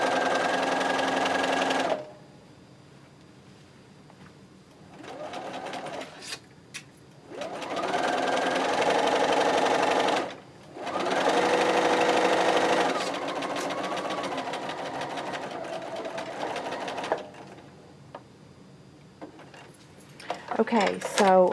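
A sewing machine stitching the rows of a fat quarter quilt runs in several long bursts separated by short pauses, loud and close, with a person talking quietly in between.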